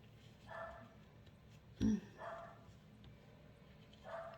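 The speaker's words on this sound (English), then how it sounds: "Let's all ignore Paris barking and being annoying." A dog gives a single short bark, fairly faint and indoors, amid quiet background noise and a few soft high tones.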